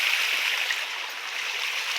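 Water splashes continuously into a natural pond as a steady, hissing, close patter with no speech over it.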